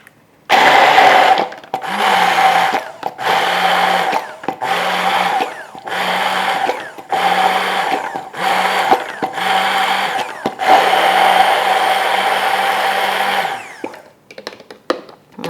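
A kitchen blender pureeing berries to a liquid for Bavarian cream, running in loud repeated bursts of a few seconds each, separated by brief pauses, then one longer final run before stopping.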